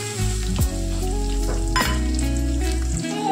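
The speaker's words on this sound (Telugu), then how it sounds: "దీంట్లో ఆనియన్స్ వేసుకోవాలి." Onions and cashews fry in hot oil in a pan, a loud close sizzle with a few sharp stirring scrapes.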